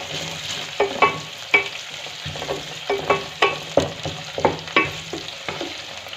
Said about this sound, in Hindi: अब इसके अंदर मैं शामिल करूंगी ज़ीरा, कि इसकी भी बहुत अच्छी सी खुशबू आ जाए, फ्राई हो जाए ये भी।